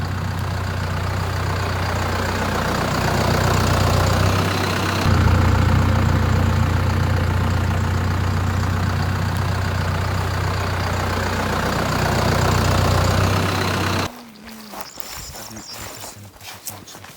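A motorcycle engine idles nearby in a steady, loud low rumble for about fourteen seconds before cutting off, leaving quieter rustling and footsteps.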